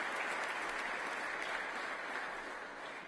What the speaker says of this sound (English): If we could give them a round of applause for the amount of effort they put in day and day out.